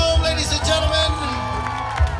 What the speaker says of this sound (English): How about another round of applause for our bride and groom, ladies and gentlemen?